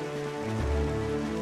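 Steady in-game rain from The Legend of Zelda: The Wind Waker HD pours as a constant hiss over a sustained tonal music bed, no voices.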